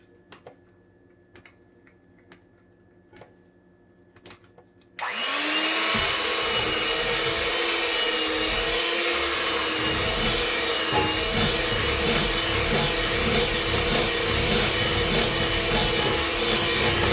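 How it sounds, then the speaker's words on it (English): A steady, loud electric hand mixer runs for the last twelve seconds, beating sugar cookie dough during a baking class. Light clicks and taps come before it starts, and the motor holds a constant, even whine once it is going. "Electric mixer,"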